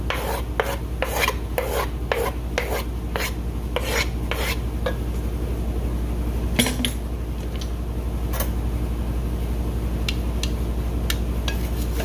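Hash browns and onions being mixed together in a pan, a run of rhythmic scraping strokes from a utensil, close and fairly loud, slowing to sparser scrapes later, with a soft hum underneath and no talk.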